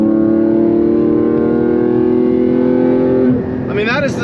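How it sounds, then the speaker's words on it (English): A Porsche 718 Cayman GT4 engine with exhaust baffles open holds a loud sustained high-rpm drone, then drops off into a rising whine and crackle near the end. "it is the best sounding engine I have heard"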